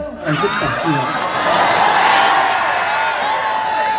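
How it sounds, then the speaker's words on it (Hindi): A crowd at an outdoor DJ dance show claps and cheers loudly, with whoops and children's shouts rising over dense, continuous applause, with a brief voice at the start. "ताली बजा दे ना, कैसे एकदम चुपचाप कर रहे हो"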